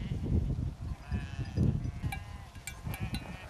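Romanov sheep bleat outdoors, several overlapping calls rising and falling in a loose rhythm, some close and loud, others farther off.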